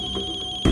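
A mobile phone rings with a repeated electronic tone, then a louder sound cuts in abruptly at the end of the short ring.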